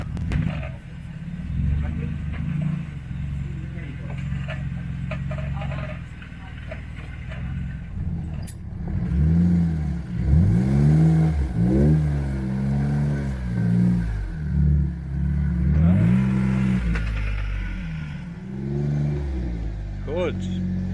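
A 4x4's engine revs and strains as the vehicle climbs an off-road ridge near Coffs Harbour, NSW, trying to get its rear wheel up. The low rumble rises and falls steadily throughout while people talk over it.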